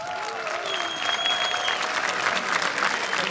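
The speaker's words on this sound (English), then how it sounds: "This crowd is fantastic, Carmack." Large crowd applauding and cheering steadily throughout at the Wargaming.net League Grand Finals for World of Tanks in Warsaw, a dense wash of clapping with faint tonal lines from the arena sound system beneath.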